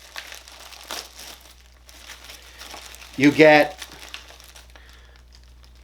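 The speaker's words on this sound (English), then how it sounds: "Plastic bag." Plastic bag packing a Rinnai exterior tankless water heater crinkles in a short, loud burst of about a second, set between stretches of quiet talk.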